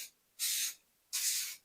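Two short aerosol spray-can bursts coating red velvet birthday treats, each a steady hiss lasting about a third of a second with a brief pause between, close and fairly loud.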